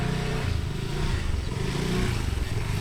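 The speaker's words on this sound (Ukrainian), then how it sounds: "брати в оренду скутер або ось такий тук-тук" A scooter or tuk-tuk engine putters loudly nearby on a narrow island street in Thailand, a steady rough motor hum with slight revving throughout.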